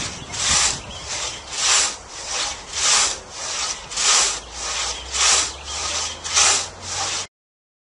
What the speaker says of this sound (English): you can saw many different pieces out of one piece of large timber without having to move the tree